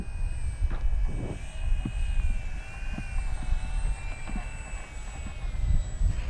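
An FMS P-51 Mustang radio-controlled model plane comes in to land as its electric motor whines steadily at a high pitch and wavers slightly, while gusty wind buffets loudly and thumps close by.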